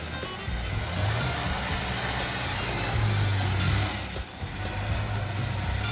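The engine of a Mazda B2300 pickup truck hums steadily at low revs as the truck creeps forward on the clutch. The engine stays near and even, with slight rises in pitch and a brief dip.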